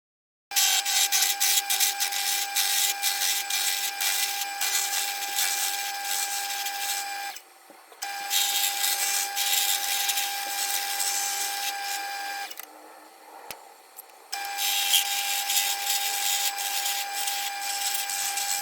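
A beginner's woodturning setup spins a piece of wood to make it cylindrical, producing a steady high-pitched whine in three long runs separated by short pauses, close and loud, with no talk.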